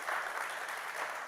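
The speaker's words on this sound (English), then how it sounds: "let's give Don and his team a round of applause for putting it together" Audience applause at a FinTech conference main stage, a brief, dense wash of many hands clapping, moderately distant and fairly faint, with no talk over it.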